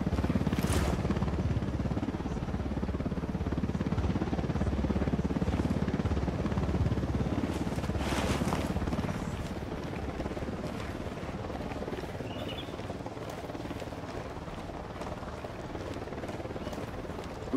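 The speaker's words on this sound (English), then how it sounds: "Chopper's approaching." A helicopter in the tactical shooter Ghost Recon Wildlands gives a steady, loud rotor roar that holds for the whole stretch, easing slightly later on, with occasional brief knocks and clatter over it.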